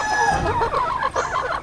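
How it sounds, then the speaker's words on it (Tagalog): Chickens cluck and a rooster crows among a flock of day-old to months-old chicks in a poultry house, with steady overlapping calls throughout and no talk. "may isang tandang dito yun"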